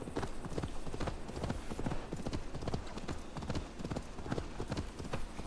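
Horse hooves clip-clop in a steady, even trot across the whole stretch in Assassin's Creed Valhalla, a continuous rhythmic patter at moderate level.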